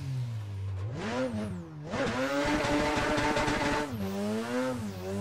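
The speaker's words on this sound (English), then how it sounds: "I just love how this car sounds." A Mazda RX-8 drift car's engine revs hard with rising pitch, dips briefly, then climbs again into a loud, sustained roar at redline before easing off, on a mountain road.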